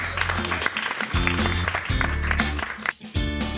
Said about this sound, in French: j'aimerais bien que vous applaudissiez euh, David ici présent.